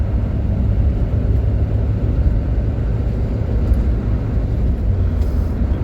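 A small Suzuki truck with solid axles and leaf spring suspension drives steadily, its low engine and road rumble continuous and fairly loud throughout, with no talking.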